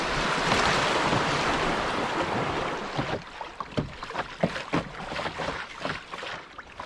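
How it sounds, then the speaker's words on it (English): A canoe runs through small rapids on a winter river, with rushing water and wind noise at first, then irregular close splashes and gurgles as the hull and paddle meet choppy current. "Almost like non-stop small rapids, good flow."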